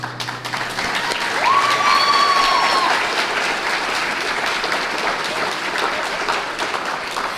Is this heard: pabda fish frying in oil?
no